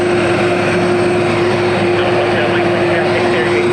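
An airliner going around at Dublin Airport roars in a loud, sustained, steady engine drone with a strong steady tone, filling the whole stretch at close range, with speech present.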